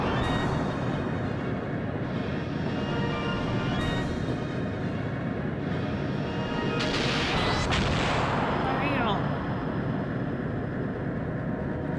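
Ship cannon fire in the Skies of Arcadia video game: a steady, dense battle roar with heavy booming blasts running throughout, swelling in the middle with a brighter burst of crackle and whoosh.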